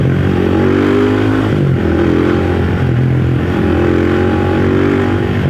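A motorcycle engine running after home repair work, a loud close steady drone with rising and falling pitch as it is revved lightly, never reaching full throttle.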